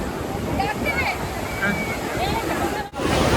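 Steady wash of sea waves and surf at Old Digha beach, continuous and fairly loud with wind rumble, a brief dip near the end and faint distant voices.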